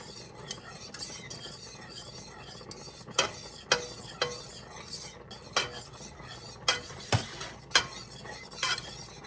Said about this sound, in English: But you can already see how I am making tracks now as I go through the pan with my whisk.